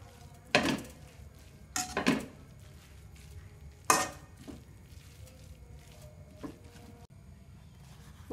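Lumpia Semarang filling with celery leaves and spring onion is stirred in a pan, with a spatula scraping and clanking against the metal in several distinct bursts over a quiet, low sizzle.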